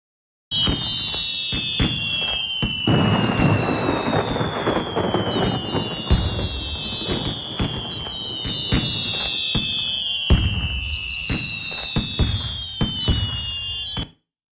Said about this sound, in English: Now we have a fireworks display in the middle of a lightning storm.